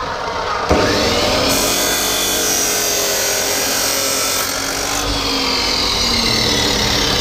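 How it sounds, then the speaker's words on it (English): A thin 1mm steel sheet is cut into L brackets, producing one loud, continuous, steady cutting whine with a harsh, buzzing edge that runs nearly unbroken for the whole stretch. No one speaks. "Make 2 of them, so I'll just cut 2 brackets out."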